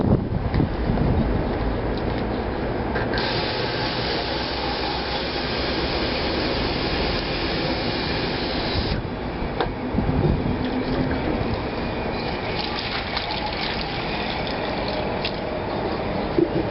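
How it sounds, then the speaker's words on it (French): Water sprays steadily onto metal parts being rinsed of phosphating agent during a restoration, a continuous broadband hiss that runs throughout with a brief stronger burst partway, no talking. "Alors, rinçage du phosphatant."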